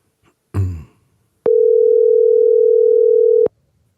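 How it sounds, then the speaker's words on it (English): A telephone dial tone sounds steadily for about two seconds as a call is placed, loud and clean, preceded by a short thump or click. "we're going to try to give him a call right now and see if he is available to be on the phone"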